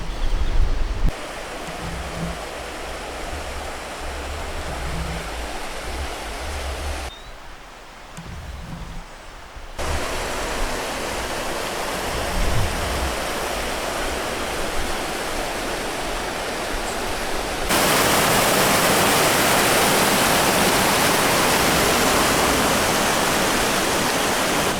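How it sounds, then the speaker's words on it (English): A loud river rushes beside a woodland path in Cornwall, a steady broadband roar heard close and alone, growing louder and fuller toward the end. "there's a rather loud river"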